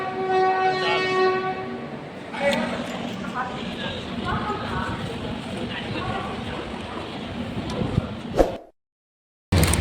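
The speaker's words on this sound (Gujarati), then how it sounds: "ટ્રેનનો હોરન વાગી ગયો છે" A sustained train horn sounds with clear harmonic tones, then the rumbling clatter of a moving train and nearby voices follow, ending abruptly.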